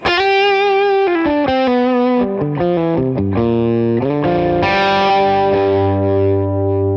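An electric guitar through a Fender amp with a boost pedal plays loud, sustained distorted notes and chords, stepping down through a phrase before ringing out on a low held chord.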